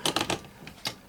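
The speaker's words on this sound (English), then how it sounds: "There's a carriage shifting." A 1963 Olivetti Lettera 33 manual typewriter gives three quick close mechanical clacks as its carriage shifts, then a short pause and a single fainter click followed by one more sharp clack, with no voices.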